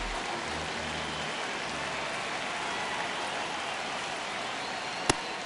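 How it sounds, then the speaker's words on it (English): Steady simulated rain hisses evenly through a baseball video game, constant and moderately loud with no talk, ending with one sharp click. "This rain is not letting up."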